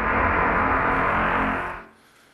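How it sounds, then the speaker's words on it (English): Pickup sound effect from the video game Quake's quad damage power-up: a loud, dense synthetic roar that sustains evenly for nearly two seconds, then cuts off into a short fading tail. "that's the sound of the quad damage pickup that you get that makes things explode when you shoot them"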